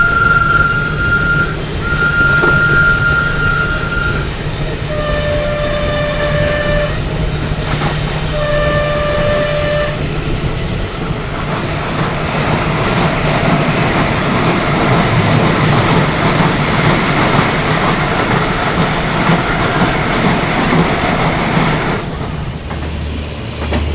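Lucknow Mail express train running, heard from inside a general coach: loud continuous rumble and rattle of wheels on track, with long horn blasts at the start and a steady roar throughout.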